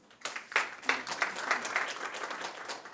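An audience at an agricultural public hearing breaks into applause to welcome a university professor, a steady patter of many hands clapping, moderately loud and lasting throughout.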